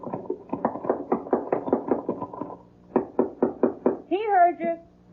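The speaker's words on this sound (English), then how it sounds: "You get to the top, just bang on the trap door." Hard banging knocks on a wooden trap door in an old radio mystery drama: a rapid burst of many loud, close thumps, a pause, a few slower heavy blows, then a voice calls out.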